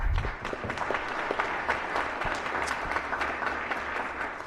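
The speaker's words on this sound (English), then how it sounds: "if you can give them a round of applause" Applause fills a state Senate chamber for guests in the gallery, a steady wash of many hands clapping at moderate distance and holding even for several seconds.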